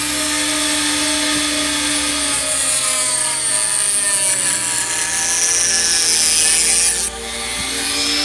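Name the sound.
Dremel cutoff wheel cutting plastic model rocket part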